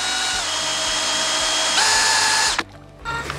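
A power drill stirring a homemade effective micro-organism (EM) fertilizer mix, whining loudly and steadily, shifting pitch as it changes speed, then cutting out and briefly restarting near the end.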